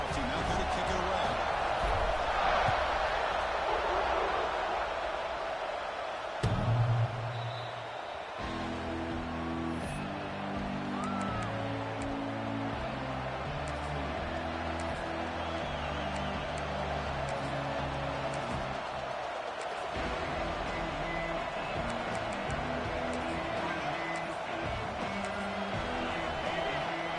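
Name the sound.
stadium crowd cheering at a football game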